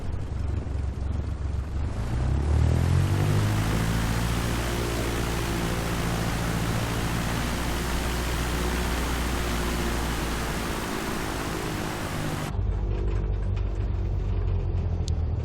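Aircraft engine drone in Microsoft Flight Simulator, a loud continuous roar with rising engine tones as power builds, holding steady before cutting to a quieter hum near the end.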